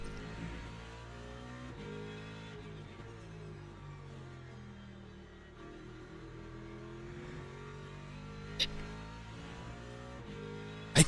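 A Ford Mustang GT3 racing in Le Mans Ultimate at Fuji, its engine roaring loud and steady as the pitch climbs through repeated rising sweeps between gear changes, with no talk over it.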